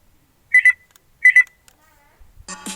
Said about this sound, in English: maximum volume notification